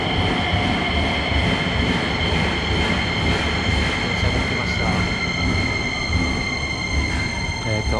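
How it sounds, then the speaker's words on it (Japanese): A train rumbles steadily into a station near Narita Airport, wheels clattering and faintly squealing, with a continuous mechanical hum and occasional voices in the background. "電車が来ましたね。"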